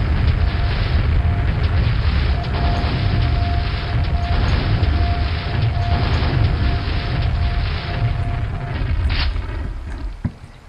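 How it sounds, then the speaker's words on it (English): Grenade blasts from the video game Quake form a loud, continuous rumbling boom that fills the clip, with a steady mechanical hum running through the middle and a sharp thud near the end. "I'll have to chuck a couple of grenades up there"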